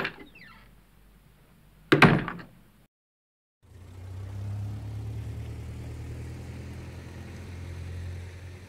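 A heavy front door slams with a sharp thud, then after a brief silence a car engine starts and rumbles steadily at a low, continuous roar.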